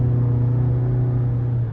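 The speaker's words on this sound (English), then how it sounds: "I like the sounds that come from the engine, the exhaust." A 2023 GMC Canyon AT4 pickup with the high-output 2.7-liter turbo four-cylinder drones steadily from engine and exhaust, a smooth, loud, constant hum heard from inside the cab that eases off at the very end.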